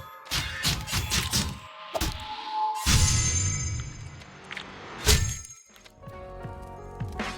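A designed Wraith attack effect from Middle-earth: Shadow of Mordor layers heavy thuds, whooshing swells, metallic clinks and shattering crashes into a dense sequence, with a loud impact near the end before a short ringing tail.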